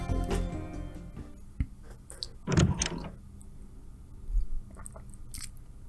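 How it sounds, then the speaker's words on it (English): A door opens in the video game Remember 11: The Age of Infinity, with a sharp click and a rough scraping creak, then a few softer knocks and taps in a quiet room. "I heard the sounds of a door opening."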